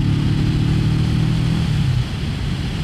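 A Kawasaki Vulcan S motorcycle revs steadily through its stock exhaust with a deep rumble, then eases off to a lower idle near the end.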